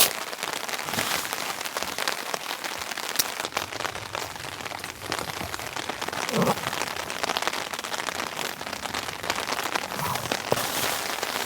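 Heavy rain drumming on a large tent during a camping trip at dusk, a dense continuous patter with occasional louder drops, steady and close, no talking.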